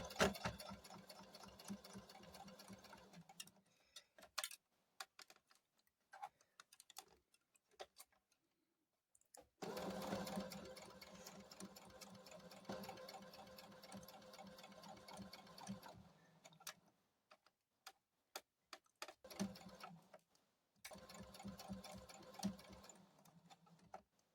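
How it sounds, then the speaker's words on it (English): A sewing machine stitches a Christmas bear in bursts of rapid mechanical whirring, separated by short pauses and near-silent gaps, close and fairly quiet, with no talking. "Drop your feet or your presser foot back down and go ahead and continue sewing"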